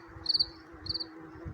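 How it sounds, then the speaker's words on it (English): A male cricket chirps in two clear, rapid pulsed bursts about half a second apart, sharp and high over a soft low background hum. "The male cricket is an insect that can emit a strong song."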